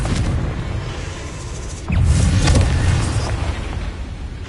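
A Confringo fire spell bursts in Hogwarts Legacy: one heavy, close boom lands about two seconds in and rolls out over a steady rumble of game sound.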